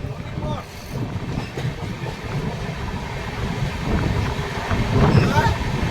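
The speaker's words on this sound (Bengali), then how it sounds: "সৌর স্টেশন থেকে ট্রেন ছেড়ে দিয়েছে" Jan Shatabdi Express pulling away from Soro station, a continuous low rumble of the moving train with wind buffeting that swells slightly louder toward the end, with some talk in the background.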